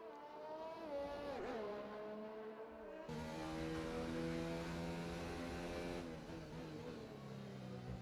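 A race car on a hot lap in a PC racing game, its engine whining steadily through rising and falling gear pitches, with a gearshift step partway, heard at a moderate, constant level without talk.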